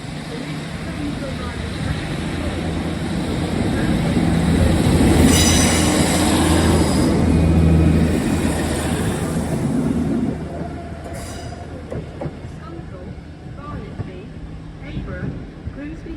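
A test train with a Class 37 locomotive, number 37099, passes through Doncaster station, giving a loud, sustained rumble of rolling wagons with wheel squeal and clatter that builds, peaks and then fades to lighter clicks, heard close from the platform.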